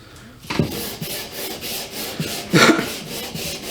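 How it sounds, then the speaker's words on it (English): A sanding block with 220-grit sandpaper rasps back and forth across a wooden gun stock in steady, rhythmic strokes under light pressure, close by and fairly soft, with one stronger stroke partway through. "we'll just get to sanding now. So start with 220 grit."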